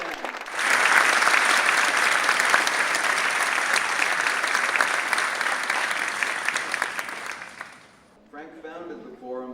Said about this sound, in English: Mark Spohr, are here tonight, and I would ask you to give a round of applause, and Frank, please stand.